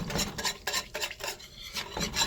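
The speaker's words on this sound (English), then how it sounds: "Go ahead and whisk that up a little bit." A whisk scrapes a bowl in quick, uneven strokes, each a sharp metallic swish close by, with a faint sizzle beneath.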